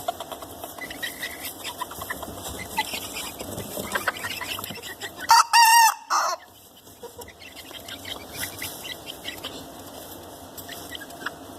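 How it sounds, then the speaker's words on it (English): Olandsk Dwarf chickens cluck softly and scratch about, then a rooster lets out a loud, brief crow midway before the flock's low clucking resumes. "He does crow louder than the black chicken here."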